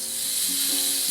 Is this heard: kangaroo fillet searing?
yes